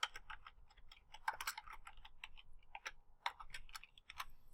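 Soft, irregular clicks of keys being typed on a computer keyboard while entering an Excel chart axis title, quiet and close, in short bursts with brief pauses.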